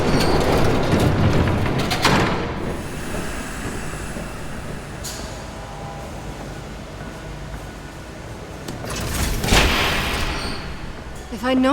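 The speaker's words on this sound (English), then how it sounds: "There's a train coming." A train rumbles past in Batman: The Telltale Series, with a loud rolling roar that swells in two bursts and a brief metallic squeal at the end, under indistinct voices.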